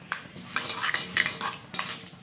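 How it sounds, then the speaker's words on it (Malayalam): Mustard seeds splutter in hot oil in a pan, making a handful of quick, sharp crackling pops in small bursts at close range with no talk over them. "അപ്പം നമ്മുടെ കടുക് പൊട്ടുന്നുണ്ട്."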